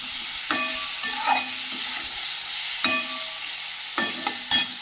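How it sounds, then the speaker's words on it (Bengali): Fried large sea fish is sautéed in oil with spices, a steady close sizzle of frying broken by several sharp scrapes and clacks of a stirring spatula against the pan. "এই পর্যায়ে ভেজে রাখা মাছগুলো দিয়ে দেবো। দিয়ে ভালো করে মশলার সঙ্গে কষিয়ে নেব"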